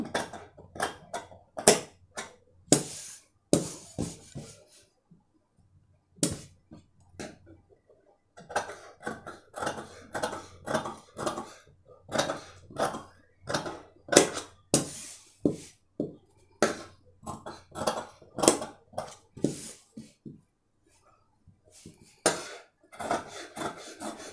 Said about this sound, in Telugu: మనం ఇప్పుడు ఈ ముందుగా మనం ఈ పలక మెడను కట్ చేసుకుందాం